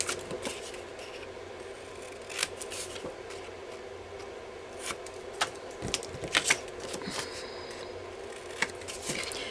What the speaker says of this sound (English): so now I'm just gonna trim off the corners a little